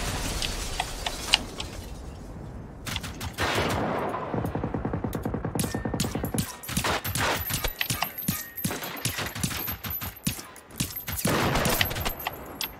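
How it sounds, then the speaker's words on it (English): Rapid automatic gunfire from a machine tank in the video game Generation Zero, loud close bursts of dense repeated shots crackling for most of the stretch with brief gaps. "Keep taking fire from that fucking tank."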